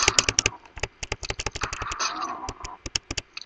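Rapid, close computer keyboard typing and clicking in quick irregular bursts, loud and crisp, with a muffled voice briefly underneath in the middle.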